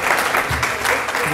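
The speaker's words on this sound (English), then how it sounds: "Let's just give her a round of applause so that we can get started this morning." Audience giving a round of applause at a morning gathering, brief steady clapping from a crowd at close range, with a voice briefly heard over it.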